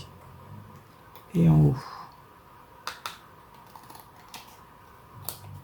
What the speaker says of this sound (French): Je vais découper